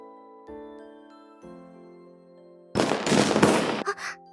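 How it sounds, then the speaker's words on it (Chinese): Fireworks bursting in Honkai Impact, heard as a dense run of sharp crackling pops over a bit more than a second, following soft chiming tones with a sustained musical backdrop. "看烟花，真漂亮啊！"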